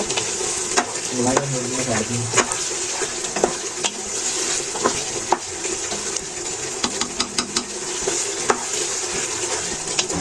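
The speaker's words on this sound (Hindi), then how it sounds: "जब तक ये ऊपर ऑयल नहीं आ जाता है तब तक हम इसको थोड़ा भूनते जाएंगे हल्के चम्मच के साथ" Whole tinda (Indian round gourd) fries in oil with a steady sizzle, while a spoon stirs and scrapes the pan in repeated close clinks.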